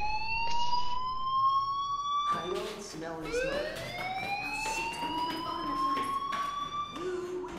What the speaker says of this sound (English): that fire alarm? That means you should be outside.